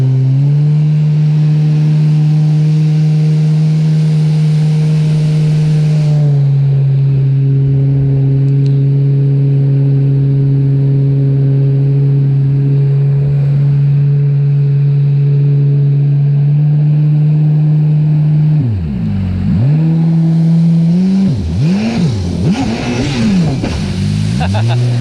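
Old Yamaha GP SHO WaveRunner engine idling steadily with a loud, even drone while warming up, then revving in several sharp rising and falling bursts near the end as someone talks over it.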